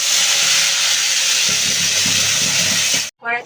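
A steady, loud sizzle and hiss rises as raw ground kharkol leaf paste goes into hot oil tempered with nigella seeds and a dried chilli, crackling continuously before cutting off abruptly.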